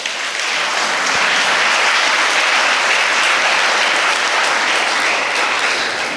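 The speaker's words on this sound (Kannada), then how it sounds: "ಕೂತಲ್ಲೇ ತುಂಬು ಚಪ್ಪಾಳೆಯನ್ನು ಗೌರವವನ್ನು ಸಲ್ಲಿಸಬೇಕಾಗಿ ವಿನಂತಿ ಮಾಡ್ತಾ ಇದ್ದೀನಿ" An audience seated at a lecture event bursts into sustained, dense applause, loud and steady for several seconds before tapering slightly at the end, with no voices on top.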